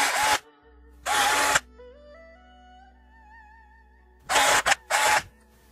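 A power drill bores holes into a tire in short bursts, three to four loud whirring runs separated by quiet gaps with faint ringing tones between.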